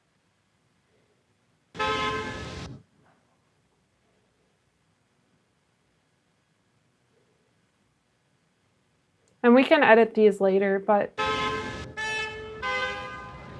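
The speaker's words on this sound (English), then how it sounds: "3 different beeps from 3 different cars" Three separate car horn beeps recorded on a New York City street, one short honk standing alone, then two more clustered together near the end, with someone talking over the later ones.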